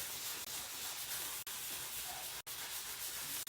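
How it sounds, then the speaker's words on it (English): Antiquing wax rubbed over a paper botanical print makes a steady, close, soft broadband scuffing hiss that continues almost without a break, with a few very short pauses between strokes. "I'm just using the antiquing wax and rubbing it all over"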